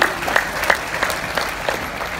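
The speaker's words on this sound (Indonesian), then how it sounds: "Ya, tepuk tangan untuk semuanya." Audience clapping at a health therapy testimony session, a modest group applauding with distinct claps audible in a loose, uneven rhythm, fairly close.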